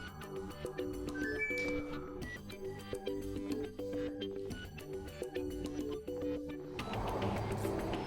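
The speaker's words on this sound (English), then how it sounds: "As you can hear, the dryer is working." A Haier HD80 tumble dryer runs a cycle with a steady mechanical whir and repeating rhythmic clunks and rattles from the turning drum, continuous and close, swelling into a louder rushing noise near the end.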